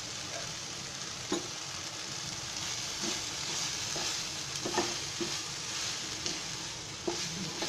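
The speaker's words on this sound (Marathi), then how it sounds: "असं छान परतायचा, म्हणजे कसं सुकलाय बघा, म्हणजे छान परतलाय मसाला चांगला." Masala of red chili powder and turmeric sizzles steadily while being stir-fried in a pan, with intermittent clinks and scrapes of the spoon against the vessel; no talking.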